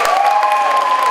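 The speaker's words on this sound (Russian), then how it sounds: "Поаплодируйте, болельщики!" Fans applauding at a KVN student comedy league show, a short loud burst of crowd clapping and cheering with a high sustained shout or whistle over it.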